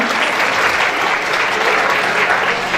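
A large audience at a choir concert claps loudly and steadily, a dense wash of applause that holds at full strength throughout.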